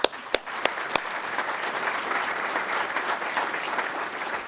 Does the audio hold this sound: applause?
yes